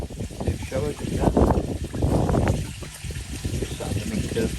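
A new water shower splashes into a koi pond as a steady close gush and trickle, with a voice talking over it for most of the time.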